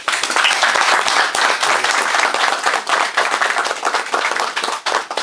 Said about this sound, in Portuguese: para ele que está aqui presente, uma salva de palmas